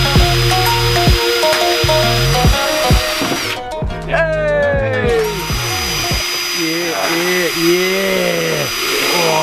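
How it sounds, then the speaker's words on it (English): Power drill boring a pilot hole with a wood drill bit during a brake booster delete installation, a loud whining motor that starts, stops and changes pitch in short bursts amid people talking. "So we're using a wood drill bit because it's stronger."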